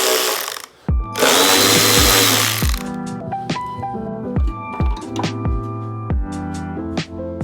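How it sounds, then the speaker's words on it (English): An electric ratchet works on a Porsche engine, a harsh burst of whirring followed by a series of short sharp mechanical bursts and clicks, loud and close, with no talking. "My electric ratchet"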